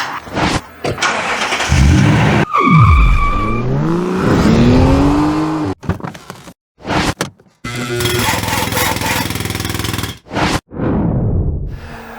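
Race car engine cranking and firing up after an injector repair, then revving loudly in a backyard, with sharp rising and falling pitch sweeps, brief cutouts and restarts, and a few faint voices underneath.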